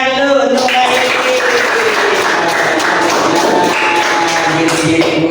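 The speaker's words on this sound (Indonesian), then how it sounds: "Kasih tepuk tangan dulu untuk Mbak Yuli." A classroom applauds a student with steady, dense clapping that starts about half a second in and continues to the end, while a voice speaks faintly underneath.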